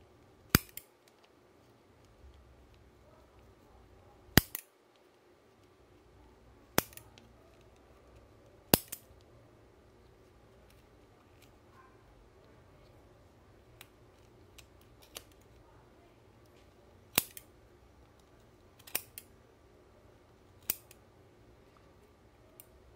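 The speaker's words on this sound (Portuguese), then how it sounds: "Cortei aqui desse lado, vou cortar do outro." Scissors snipping through yarn while making an amigurumi bunny pompom keychain, about ten sharp, close clicks spaced irregularly over quiet background.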